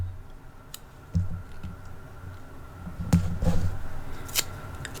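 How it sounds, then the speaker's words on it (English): Scissors cut a piece of paper in half while decorating a planner spread, giving faint, close snips and rustles over a soft background hiss. "I'm going to cut this one in half."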